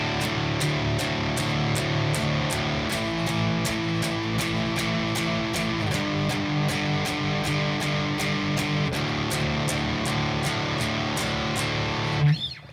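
Guitar strummed in a steady rhythm with a sustained, slightly effected tone, playing the verse of a song continuously for several seconds with no voice.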